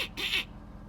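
A short, nasal duck quack, bright and close, heard twice in quick succession over a faint low hum.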